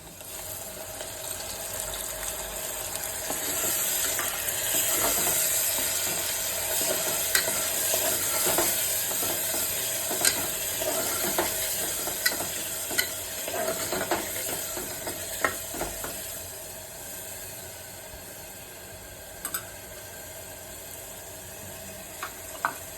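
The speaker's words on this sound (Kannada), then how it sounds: "ಈ ಥರ ಫ್ರೈ ಆದಮೇಲೆ ಇದಕ್ಕೆ ರುಬ್ಕೊಂಡಿರೋ ಮಸಾಲೆಯನ್ನು ಸೇರಿಸ್ತಾ ಇದ್ದೀನಿ." Ground masala paste sizzles and fries in a pan for egg biryani while a spoon stirs and scrapes it, with a steady close hiss and scattered sharp taps against the pan.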